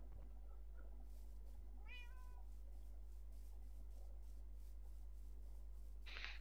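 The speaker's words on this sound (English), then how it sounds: "The cat's noisy today." An indoor cat gives a faint rising meow, then a second brief cry, both set against a steady low hum.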